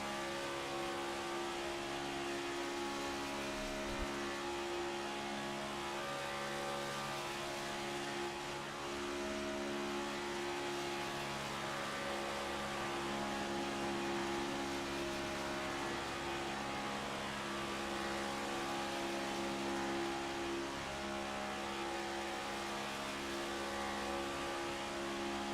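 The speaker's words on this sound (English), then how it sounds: "riding on board with the 8 car, just wide open throttle, letting that thing sing here from Daytona" A Next Gen stock car holds wide open throttle onboard at Daytona, a continuous steady engine drone with layered harmonic whine that stays even and unbroken throughout, heard from inside the car.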